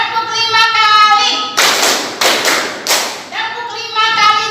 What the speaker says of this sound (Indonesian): Tepuk 1 kali. Tepuk 2 kali. Tepuk 3 kali. Tepuk 4 kali. Tepuk 5 kali.